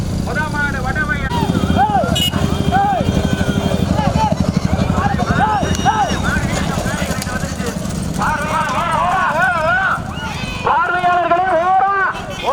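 Racing horses pound past in a continuous rapid clatter of hooves, with an announcer's loud commentary over a public address system running on top throughout.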